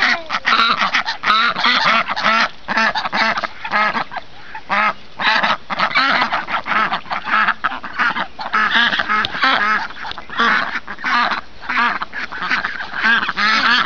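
Flock of eleven farmyard ducks in an outdoor pen quacking and honking loudly and continuously, a dense overlapping chorus of close calls with no talk.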